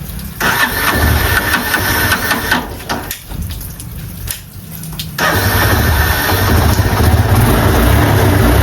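An old motor vehicle that has stood unused for a long time cranks and starts, its engine catching into a loud, steady running rumble after a brief uneven stretch, with no talk.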